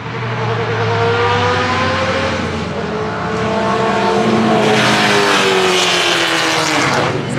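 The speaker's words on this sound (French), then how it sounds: "Quelle classe quand même de rouler ta F40 sur circuit." A loud, high-revving Ferrari F40 engine roars continuously, its pitch climbing and falling through gear changes as it races along a race circuit, close and dominant.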